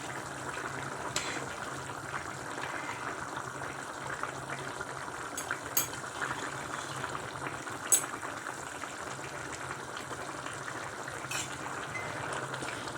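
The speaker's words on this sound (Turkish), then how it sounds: "Pişen yemeğimi şöyle güzelce karıştırıyorum" Broad bean stew bubbling in a pot at a low, steady simmer, faint and close, with a few soft clinks of a spoon as it is stirred.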